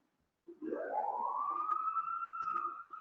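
An ambulance siren rises and wails steadily as it passes on the street below, fairly loud and alone over a quiet background for about two and a half seconds.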